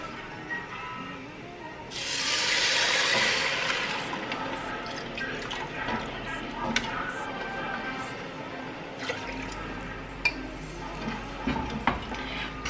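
A pot of red lentils simmering in about 800 ml of broth is stirred, with soft scraping and liquid sloshing under a brief rush of running water, close by in a home kitchen, with a voice talking at times.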